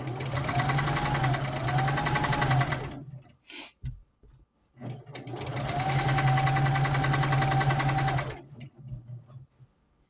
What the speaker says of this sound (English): I'm just taking a seam right across there, sewing right there in between those two fabrics